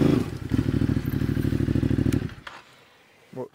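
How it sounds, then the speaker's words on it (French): A motorcycle's engine revs hard as the clutch is dropped mid U-turn and the rear wheel spins, a loud, pulsing throb with rough clatter lasting about two seconds, then an abrupt drop to quiet and a faint thump. "J'ai lâché l'embrayage d'un coup sec, ça fait patiner la roue."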